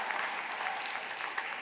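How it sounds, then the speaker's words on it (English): Audience applause at an NFT Arizona panel on women in Web3, a short, dense burst of clapping from a room full of people. "Yeah, that deserves some applause."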